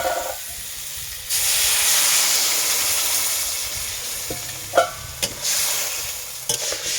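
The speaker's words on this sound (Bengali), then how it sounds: "এরপর এটাতে আমি জল দেবো" Water poured into a pan of fried mango pieces for a sweet-sour-spicy mango chutney bursts into loud steamy sizzling and hissing, with a few clinks and scrapes of stirring later.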